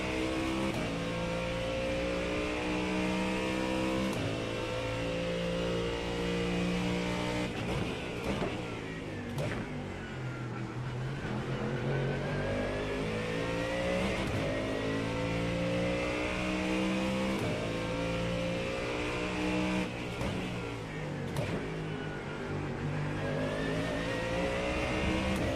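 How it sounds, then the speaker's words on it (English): Ford Mustang GT3 race car lapping Sebring in iRacing, its engine droning loud and steady, rising and falling in pitch through repeated upshifts, downshifts and braking, with no voices. "This is the Ford Mustang GT3. And we're at Sebring right now."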